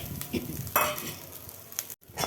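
Cooked rice being stirred with grated coconut and peanuts in a pan, a short burst of soft scraping and gentle sizzle from a spatula, close and quiet, with no voices.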